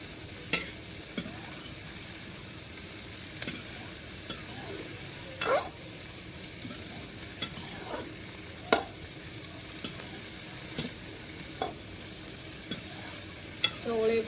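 Potatoes and cluster beans stir-fried for a Punjabi sabji: soft continuous sizzle with sparse, evenly spaced spatula clicks and scrapes against the pan.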